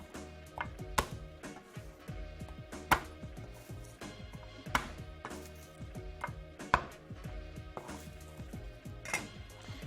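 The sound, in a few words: large knife crushing garlic cloves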